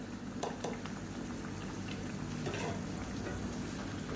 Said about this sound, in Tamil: இது கொதிக்கட்டும்